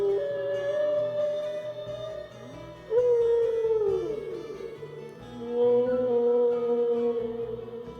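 A humpback whale call from the Nancy Drew: Danger on Deception Island game plays as long, gliding, moaning tones in two sustained swells, heard alone.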